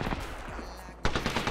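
Rapid automatic gunfire in the battle royale game Apex Legends, a dense, loud burst of overlapping shots. The burst briefly thins, then resumes with sharp, closely spaced cracks, and no voice is heard.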